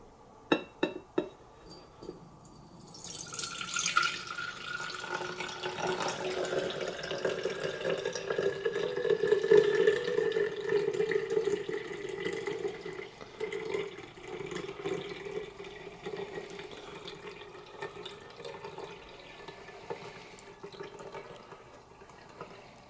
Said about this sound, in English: I'm going to pour each one into the jar